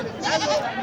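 A goat at a rural livestock market gives one short, near bleat, loud and quavering, lasting under a second.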